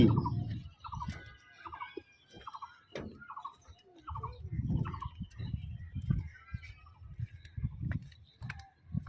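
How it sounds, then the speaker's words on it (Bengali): Ducks at a rural resort in Rangpur, Bangladesh, giving a run of repeated nasal calls in short bursts, fairly close, over low rumbling background noise and occasional movement. "হাঁস"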